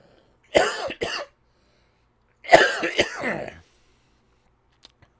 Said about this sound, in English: Didn't mean to just cough in all your ears.